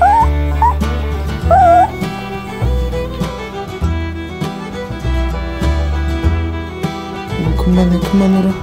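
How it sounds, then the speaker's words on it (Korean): A puppy whimpers and whines repeatedly up close, its high, wavering cries coming in short bursts with small yips between them. "그만 그만 그만 낑낑거려"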